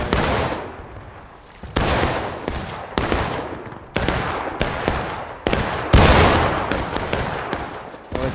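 Musket volleys ring out in a War of Rights battle, a fast string of loud, sharp gunshots that start abruptly and decay with broad, crackling reverb, coming in irregular bursts with no talk.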